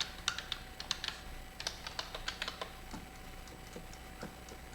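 Buttons on the Wondercab arcade controller board are pressed in a quick, irregular series of light plastic clicks and taps, close and fairly quiet, with no one talking.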